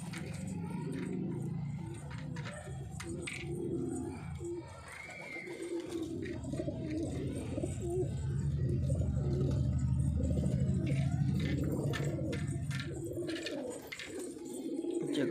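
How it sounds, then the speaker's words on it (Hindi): Several Punjabi Malwai pigeons coo in low, throaty, overlapping calls close by, with a voice speaking now and then in the background. "ये टांका कबूतर बैठा हुआ है जी"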